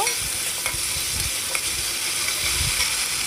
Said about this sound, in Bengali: মশলাগুলো দিয়ে ভালো করে কষিয়ে নেব।